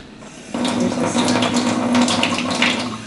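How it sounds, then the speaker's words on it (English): Tap water runs steadily into a measuring cup to fill half a cup for making energy balls, a constant close splashing rush that starts abruptly and continues to the end. "Okay, so half a cup of water. You want to fill that up for me?"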